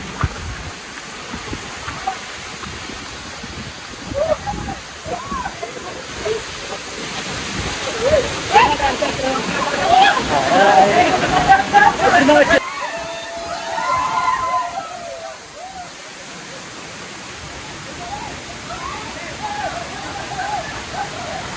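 A waterfall at Amboli Ghat, Maharashtra, in the monsoon rushes steadily, a constant broad roar of water with splashing; voices talk over it at moments.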